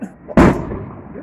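A single firework explodes in one sharp, loud boom followed by a short rumbling decay outdoors.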